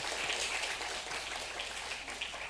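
Church congregation on its feet clapping to welcome visitors during a Sunday service, a steady patter of many hands sustained throughout at moderate, somewhat distant level.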